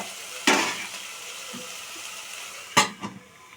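Vegetables cooking in a pan of oil for a chapati roll filling, two sharp sizzling bursts as they are stirred, each fading into a quiet steady fry with a small clink between.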